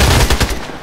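Pistol gunshots in the video game Contract Wars come as a rapid burst of loud, close shots, about five in quick succession, filling under a second.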